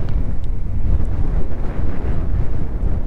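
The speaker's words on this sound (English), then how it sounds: "Might have been the wind." Steady wind buffets the microphone outdoors at a pay-to-fish spot, a continuous low rumbling roar with no speech throughout.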